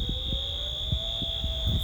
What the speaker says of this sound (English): Oh, more used to this alarm now.